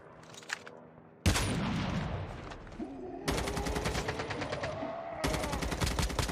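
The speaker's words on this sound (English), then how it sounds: "there's a lot of shots going on right here" Sustained automatic gunfire in the mobile game Call of Duty Mobile, dense rapid bursts that stop and restart in loud stretches, with overlapping weapons and no speech.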